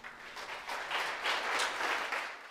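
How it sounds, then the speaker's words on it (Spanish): Applause from a church congregation, a dense patter of hands clapping that swells and holds steady, heard somewhat faintly at a distance. "Denle un fuerte aplauso al Señor."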